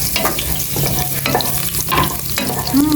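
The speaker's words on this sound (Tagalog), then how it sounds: "Lalagay ko naman po itang bawang. Gisa-gisa na po si Aya." Garlic sautéing in hot cooking oil in a home kitchen pan, a steady close sizzle with scraping stirs throughout and a brief faint tone near the end.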